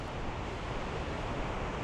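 Waves wash steadily onto Da Nang beach in the days after a typhoon, a loud, continuous roar of surf and wind with no voices.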